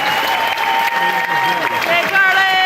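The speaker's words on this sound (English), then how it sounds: "Round of applause." Kindergarten graduation crowd applauds steadily and fairly loudly for nearly three seconds, with voices and cheering mixed into the dense clapping.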